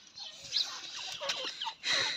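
Chickens and a rooster clucking and calling inside a pen, several short bird cries scattered across the moment with a louder burst at the end, no talking.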